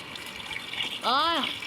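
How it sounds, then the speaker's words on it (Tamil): Water fills a container in the School Boy Runaway video game, starting as a faint hiss and rising into a louder rushing gush with a climbing pitch near the end, while someone talks over it. "எவ்வளோ நேரம் தண்ணி ஃபில் ஆகணும்."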